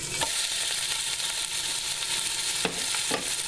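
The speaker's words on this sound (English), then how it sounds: "we want to hear a sear when we put that meat, when we put the veal and the pork in the pan." Steady loud sizzling of ground veal and pork searing in a hot pan for Bolognese sauce, with a few clinks and scrapes of stirring breaking through the constant crackle.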